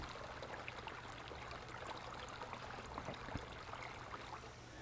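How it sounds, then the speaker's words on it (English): Water trickles and pours steadily in the Idle Colony video game as a tree gets watered, a faint continuous stream with no talking. "So let's go ahead and water this tree again."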